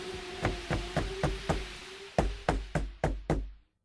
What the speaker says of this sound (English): Suddenly, somebody knocks at the door.